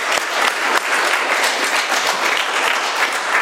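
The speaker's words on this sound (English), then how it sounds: "Let's give Jason another round of applause." Warm, steady applause from an audience at an AA meeting in Doylestown, Pennsylvania, many hands clapping together at a strong, even level for several seconds.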